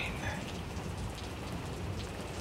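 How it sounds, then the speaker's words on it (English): Steady rain falling, a dense, even hiss of drops pattering on surfaces at moderate distance, with no other sounds standing out. "I hate rain."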